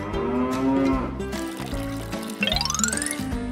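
A cow moos in a long, loud, drawn-out call, followed by other tonal sounds and a rising, swooping tone.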